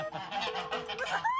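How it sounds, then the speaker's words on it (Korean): Geese honk repeatedly in a close, loud series of nasal calls, several birds overlapping, ending in a rising squawk. "아니 거위가"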